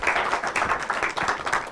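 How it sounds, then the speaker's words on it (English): Audience applause during a workshop on team communication, a short burst of close, steady clapping from a room of participants that stays fairly loud throughout. "Give her a big round of applause."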